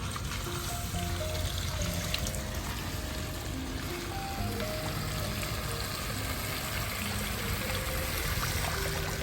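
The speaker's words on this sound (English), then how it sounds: "And just keep filling it up until the water stagnates." Water pours steadily into a potted Cyperus papyrus, making a continuous trickling, splashing flow with small gurgles throughout. The sound is close and moderately quiet, with no talking.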